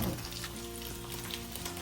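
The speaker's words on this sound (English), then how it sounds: "You put the onions and carrots in first. And if you look at the onions, they're already sauteing down." Onions and carrots sauté in a pan over a very low flame, giving a steady, close, even sizzle that runs without a break and with no talking.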